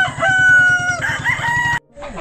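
A rooster crows close by in one long, loud, strained call, and a short cluck follows after a brief pause.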